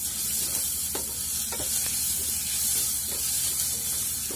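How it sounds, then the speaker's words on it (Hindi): Crushed garlic, green chili and ginger fry with half-cooked onions in a hot pan, giving a steady close sizzle with a few sharp stirring scrapes and clicks. "इसको डाल करके अब बढ़िया से भून लेंगे।"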